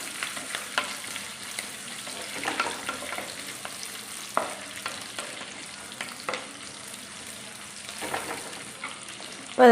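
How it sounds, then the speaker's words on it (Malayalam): Ginger, garlic, green chillies, onion and curry leaves sauté in hot oil for a Kerala roasted-coconut fish curry, giving a steady close crackle and sizzle with intermittent stirring scrapes and no voices. "ഇതെല്ലാം കൂടെ ഒന്ന് നന്നായിട്ടൊന്ന് വഴറ്റിയെടുക്കാം."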